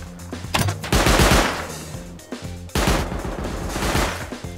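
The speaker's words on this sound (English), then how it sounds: "I would start the raid by baiting these two turrets here by the tower" Automated base turrets in the survival game Rust open fire in two rapid, loud machine-gun bursts about two seconds apart, each a dense rattle of shots that trails off before the next burst.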